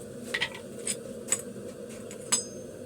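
Several sharp metallic clanks ring out at irregular intervals as a hammer strikes a metal pipe while forging a shoehorn, over a steady low background hum.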